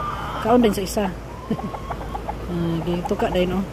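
Hens cluck in short bursts close by, mixed with a person talking over them.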